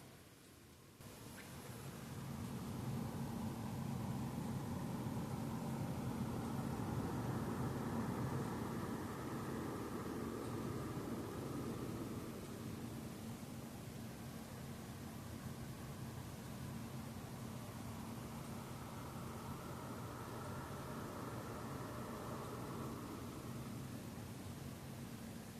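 Twin 140mm fans on a Sapphire 9070 XT graphics card spinning at 60% speed give a steady, broadband whooshing hum with a low tonal drone. It stays fairly loud and unchanging throughout, with no talking.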